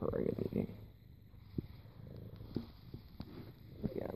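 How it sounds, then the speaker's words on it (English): Nicholas the cat purrs softly and steadily while eating nearby, with faint chewing clicks and a low rumbling drone in a quiet room. "He's purring and eating."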